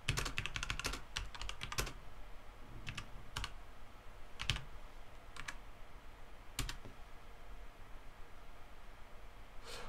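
Keys clatter on a computer keyboard while a Python function's documentation is typed into a package's init.py, bursts of close, crisp clicks separated by short pauses over a low steady hiss, with no voices.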